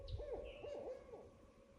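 Owls hoot in the daytime at River Gorge Ranch, giving a few faint, wavering hoots that overlap one another, heard from a distance over quiet outdoor background.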